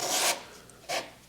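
Two short rasping strokes of light sanding with worn 1000 grit sandpaper, separated by a brief pause. The rubbing is soft and close, with no talk over it.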